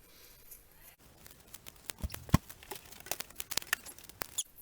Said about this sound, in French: on va venir découper le cœur à ras, prendre les plus petits ciseaux